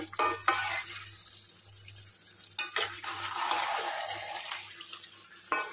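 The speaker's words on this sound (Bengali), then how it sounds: "এভাবে আমি নাড়তে থাকবো যতক্ষণ না শুকাবে।" Sweet mango pickle with sugar cooks in a pan over low heat while a spoon stirs it, giving soft wet scraping with a few sharp clacks against the metal over a faint steady hum.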